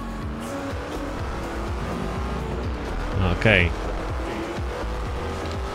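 A 1970 Corvette C3 ZR-1 muscle car drives in Forza Horizon 2 at night. The engine drones steadily and the tyres give a short squeal midway, while someone talks over it.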